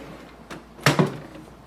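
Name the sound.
lifting up the scanner section of an HP ENVY Inspire printer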